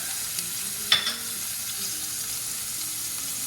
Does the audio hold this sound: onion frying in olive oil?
yes